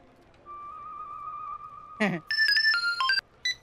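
A mobile phone rings for an incoming call, a steady electronic tone followed by a brighter, stepping melodic ringtone in short bursts, close and fairly loud, with a brief spoken word breaking in between.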